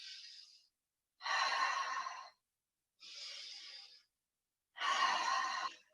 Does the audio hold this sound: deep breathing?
yes